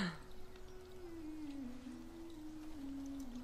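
A long, wavering, drawn-out cat yowl in a musical film scene, faint and somewhat distant, sliding up and down in pitch with a soft noisy background.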